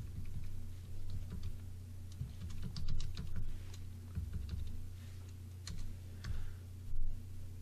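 A file name is typed on a computer keyboard at a film-scanning desk: soft, irregular keystroke clicks come in short bursts with brief pauses, heard alone over a faint steady hum.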